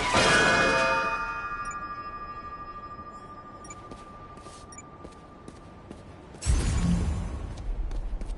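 Bright, harsh synthesized bell tone in an electronic music mix, struck once loudly and ringing out into a long decay, then a second burst of sound arrives later.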